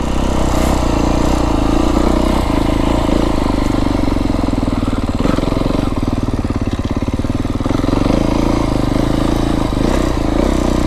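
A Beta 350 X-pro dirt bike rides through a rocky canyon on a mountain trail in southern Arizona, its engine droning loud and close throughout with a constant rough buzz, slight throttle changes and some clatter.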